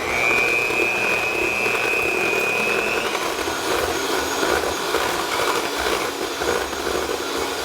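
An electric mixer whirs steadily through New York cheesecake batter after flour is added, a constant loud motor drone with a brief high whine at the start, no voices.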